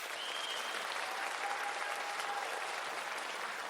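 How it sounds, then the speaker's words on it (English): An audience claps for a welcomed guest. The applause is a steady, even wash of many hands that holds at a moderate level throughout, with no voices over it. "Let's give her a round of applause."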